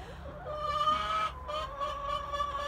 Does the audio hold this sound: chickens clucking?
yes